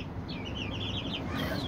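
Chickens and young chicks from a naked-neck cross cluck and peep in a rapid, close chirping run, heard alone without speech.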